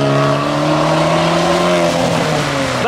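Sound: modified car accelerating away from a car show

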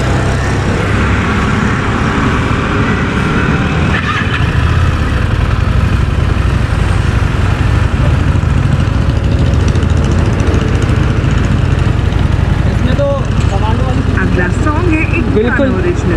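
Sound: motorcycle engine running

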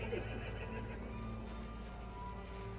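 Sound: horse neighing in a Wild West video game

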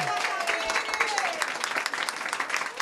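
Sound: audience applause for Tamires

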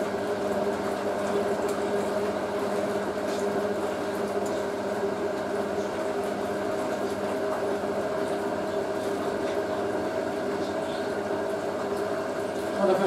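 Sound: Hotpoint 9530 washing machine final rinse and spin

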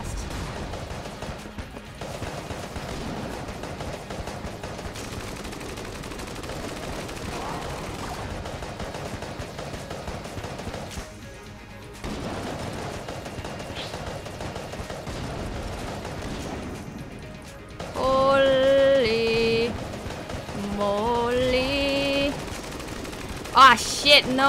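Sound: rapid gunfire from a gun in the video game Enter the Gungeon

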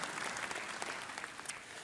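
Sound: audience applause

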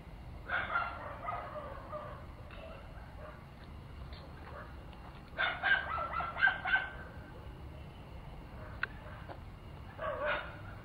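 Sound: dogs barking

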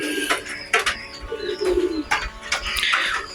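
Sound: domestic pigeons cooing in their nests on a cloudy day

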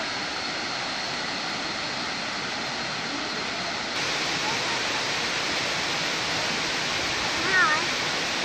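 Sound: waterfall

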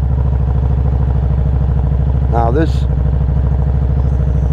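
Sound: Harley-Davidson V-Rod Revolution X motorcycle engine idling

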